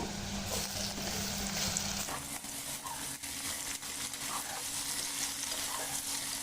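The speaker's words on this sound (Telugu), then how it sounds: "ఈ క్యారెట్ కూడా లో ఫ్లేమ్లో కొంచెం వేయించుకున్నాము పీనీస్ వేసేసుకున్నాము ఆలుగడ్డ ముక్కలు వేసేసుకుందాము" Carrot, peas and potato pieces frying over a low flame for a hotel-style poori curry, a soft continuous sizzle with faint scraping and stirring, fairly quiet and steady, with no voices.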